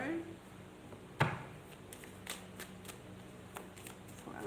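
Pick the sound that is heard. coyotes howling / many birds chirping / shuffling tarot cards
shuffling tarot cards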